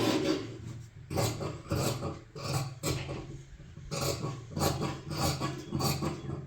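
Scissors rasp and snip through blouse fabric along a marked front piece in a series of close, rhythmic cutting strokes, about eight bursts with short pauses and no talk.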